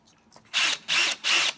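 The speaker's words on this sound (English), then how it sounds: "We're going to drill that in there." Power drill drives screws to mount a SimpliSafe smart lock keypad, three short whirring bursts with brief pauses between, close and fairly loud.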